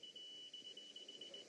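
A steady high electronic tone pulses in short repeated beeps over a low background hum during a ghost hunt at a temple in Peru, fairly faint and continuous throughout.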